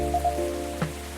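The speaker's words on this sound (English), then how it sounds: "listen to that. It's pouring down rain again." Rain pours down in the cafe game Coffee Talk: a steady wash of rainfall beneath sustained soft musical tones, with one brief louder splash near the end.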